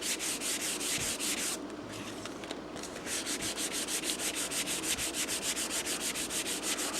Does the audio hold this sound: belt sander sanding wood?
yes